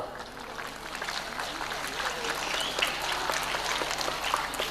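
An audience claps at a public gathering, a scattered, continuous patter of hands that grows a little louder toward the end, with a faint steady hum underneath.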